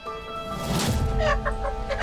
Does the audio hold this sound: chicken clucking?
yes